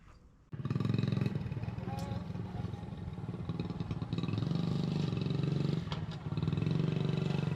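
A 1971 Honda CT70 motorcycle engine runs steadily up close after a quiet start, with a brief dip partway through before settling back into its even idle.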